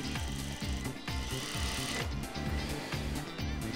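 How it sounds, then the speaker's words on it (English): Sewing machines stitch ready-made kimonos in a Japanese kimono factory, producing a close, rhythmic mechanical whir and clatter that repeats in quick regular bursts throughout. "Sewing machines are used to stitch ready-made kimonos."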